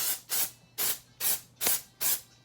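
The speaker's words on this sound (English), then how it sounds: "I usually just spray my whole face." Setting spray misted onto a face during a makeup routine: five short, even hissing bursts in a steady rhythm, close and clear, with no talking.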